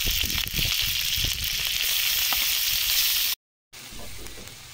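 Potato and soybean chunks sizzle and fry in a hot pan with a bright, steady crackling hiss, close up, broken by a brief silent gap near the end.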